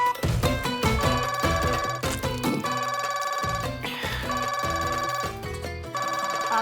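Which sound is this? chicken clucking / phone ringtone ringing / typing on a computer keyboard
phone ringtone ringing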